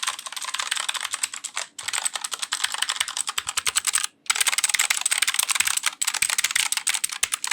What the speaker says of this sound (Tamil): இந்த கீபோர்ட் ஃபுல்லாக ப்ளூ ஸ்விட்ச் தான் வந்து மெக்கானிக்கல் கீபோர்ட்ஸ்லேயே சவுண்ட் வந்து அதிகமாக கொடுக்குன்னு சொல்லியிருப்பாங்க